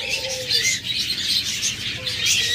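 Many caged farm birds, including lovebirds, budgerigars and cockatiels, chirping and chattering at once in a dense, continuous high twittering that fills the space, with no speech.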